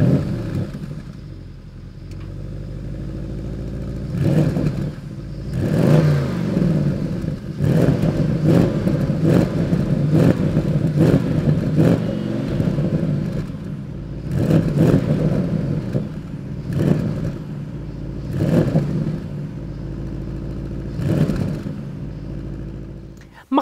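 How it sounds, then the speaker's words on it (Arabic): Twin-turbo engine of a 2017 Porsche Panamera Turbo revving repeatedly, a deep low rumble with a series of loud throttle blips rising and falling over a steady idle, close by with no talk. "أسمعكم السيمفونية الألمانية واحكوا لي رأيكم بصوت السيارة."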